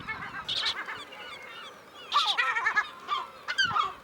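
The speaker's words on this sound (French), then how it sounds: "on a le fameux goéland brun avec ses pattes jaunes" A lesser black-backed gull on a Brittany island fort calls in loud, close bursts of harsh honking cries with short pauses between them.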